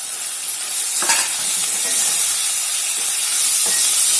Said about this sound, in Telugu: మెంతికూర కూడా ఆయిల్లో మంచిగా వేగాలండి.